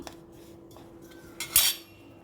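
Chopped guava pieces are mixed with chili powder and salt in a dish, giving quiet metallic clinks of a utensil and then one louder, brief scrape, with no talking.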